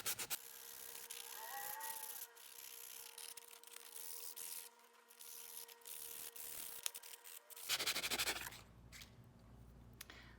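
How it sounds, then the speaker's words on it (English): Steady scratchy rubbing of sandpaper gently by hand over wood, close and fairly loud, continuing in short strokes with a brief shift in texture near the end. "So I do want to be very gentle when I am sanding this"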